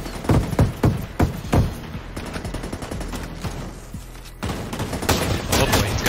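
Large mounted gun firing in the video game Ghost Recon Breakpoint during a Terminator co-op event: heavy, booming shots in a steady rhythm at first, then dense continuous automatic fire, loud and close.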